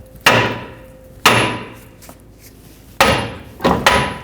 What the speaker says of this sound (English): we're going to tap on the knuckle so that it can break free from this ball joint stud